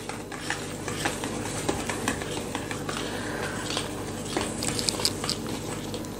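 Ragi cake batter with cocoa, baking powder and baking soda being stirred in a bowl, giving a steady run of close, soft scraping and clinking with no voices.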